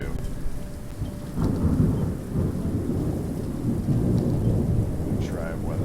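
Rain and thunder weather in the city-building game Cities: Skylines, a steady hiss of heavy rainfall with a low rumbling roll of thunder swelling partway through, loud and continuous with no talking.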